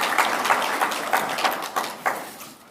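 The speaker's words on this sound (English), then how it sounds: "A big round of applause, and thank you." Scattered applause from a modest reception crowd at the Epic XGM 2024 PAC reception, a few claps rising and fading in uneven bursts over a few seconds.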